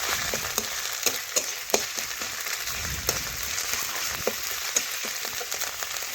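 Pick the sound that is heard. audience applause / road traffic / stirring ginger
stirring ginger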